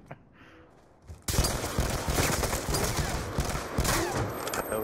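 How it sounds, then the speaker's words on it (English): Bean bag rounds fire in a video game as a sudden, dense, loud barrage of rapid shots that continues steadily after a quiet opening. "You shooting bean bags at me?"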